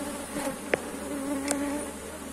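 Honeybees from a large, populous swarm in hives buzz continuously at close range, with a steady drone and a couple of individual bees zipping past near the microphone.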